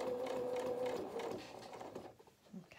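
A sewing machine stitches around a small fabric toy cat's head, running steadily at close range for over a second before slowing and trailing off into quiet handling noises.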